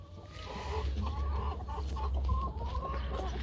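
Several broody hens cluck and murmur close by in short, overlapping calls over a low steady hum.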